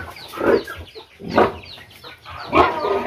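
Chickens clucking up close in a backyard coop, three distinct bursts of clucks and squawks spaced about a second apart, loud and clear with no talk.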